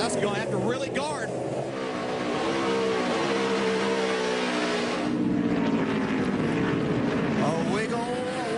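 A NASCAR stock car engine at full throttle at Watkins Glen roars in a sustained, steady drone with shifting pitch, loud and continuous, while a commentator speaks over it.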